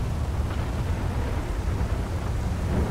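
Dense rainstorm with low rumbling thunder, heard from inside a moving vehicle as a loud, continuous, steady wash of noise with no voices.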